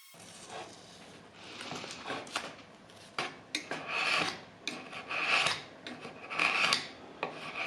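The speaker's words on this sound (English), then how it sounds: "I took a utility knife and just added some wood grain." Utility knife scraping grain lines into smooth wood filler on an antique sideboard, a series of rough rasping strokes of varying length, close up and with no voices.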